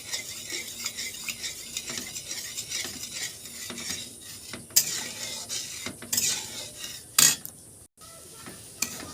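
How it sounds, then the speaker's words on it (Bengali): Semolina is stirred and scraped through warm milk in a pan as it thickens into a dry dough, giving a steady close run of scraping and clicking strokes with a few sharper clanks. "এইভাবে সুজিটাকে নেড়ে নেড়ে একটা শুকনো ডোয়ের মতন করে নেব।"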